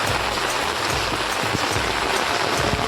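Heavy rain falls hard in Kurang, a Sahyadri mountain village, a steady loud hiss of rainfall with scattered close drops and splashes striking a surface throughout, no voices heard.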